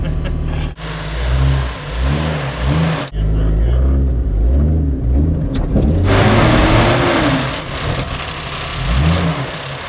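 An off-road vehicle engine revs repeatedly under throttle in loud, rising and falling bursts, with people talking over it throughout.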